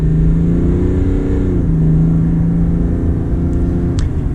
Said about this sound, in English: Now we're gonna get a little acceleration with the 3-liter Duramax.